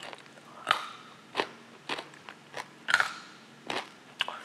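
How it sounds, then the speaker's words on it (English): Close, crisp crunching as crunchy roasted chickpeas are chewed, a steady series of about eight bites and crackles at irregular intervals, with no talking. "The crunchy chickpeas are really crunchy."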